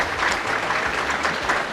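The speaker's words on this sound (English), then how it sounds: "Let's just have a round of applause for both runners." A live audience at a speedrunning marathon event claps together for the runners, a dense, steady patter of applause that holds throughout without speech.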